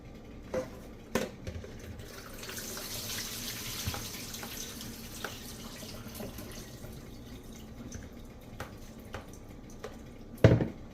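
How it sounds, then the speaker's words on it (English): Water splashes and trickles as cooked collard greens are drained in a kitchen sink, a soft running pour with scattered drips and a couple of sharper knocks, including a louder clunk near the end. "We just want to pour off the water and actually squeeze out our greens."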